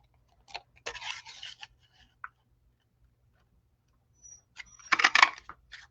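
A paper punch cuts a scalloped oval from paper in two crisp bursts of crunching and clicking, close by, separated by a quiet pause with a faint low hum underneath.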